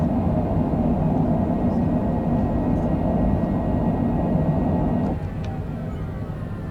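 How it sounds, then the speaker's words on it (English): Thrust reversers on a landing Cessna roar in a loud, steady low rumble. The rumble drops off sharply near the end as they stow. "Ah, reversers are working again."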